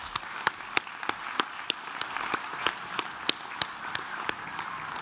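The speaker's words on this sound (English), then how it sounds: "Final round of applause for certificate in hair design." An audience at a graduation ceremony claps for certificate recipients, with sparse, fairly steady individual claps over a soft background hum. No speech is heard.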